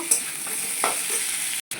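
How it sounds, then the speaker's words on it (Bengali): Potatoes fry steadily in hot oil, a continuous close sizzle with occasional stirring scrapes and a brief pause near the end, no voices. "আলুটা ভেজে নেব।"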